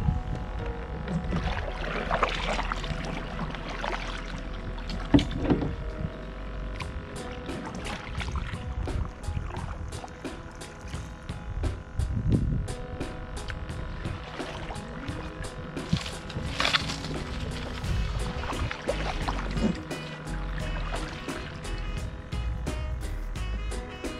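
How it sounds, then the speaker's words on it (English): An aquarium bubbler bubbles steadily in water, a faint continuous gurgle with scattered small pops and splashes heard up close, without talk. "Soothing sounds of a bubbler."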